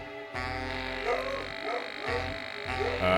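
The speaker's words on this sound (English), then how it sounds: "that buzzing noise is weird" A steady electronic buzzing from an intercom in the Grim Fandango Remastered video game, a continuous droning hum with pulsing, warbling variations, fairly loud and alone for about three seconds.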